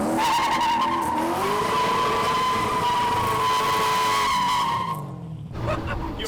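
A BMW E36 drift car spins donuts, its tires squealing in a loud, sustained, wavering screech over engine roar, then cutting off near the end.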